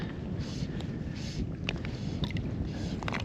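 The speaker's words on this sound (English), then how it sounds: "Really struggling to hold my position with this wind." Strong wind buffeting the microphone over a remote Hebridean loch during float tube fly fishing, a constant loud low rumble with occasional small splashes and knocks.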